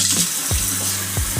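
Running water rinsing a child's curly hair during a wash-day routine, a steady close splashing stream with a few soft drip-like pulses.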